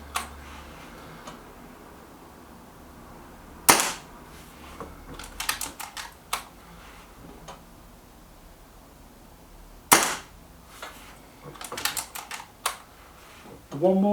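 A Kral NP-02 laminate air rifle fires at paper target cards, with two sharp, loud cracks spaced several seconds apart and clusters of lighter ticks and clicks between them over a quiet background.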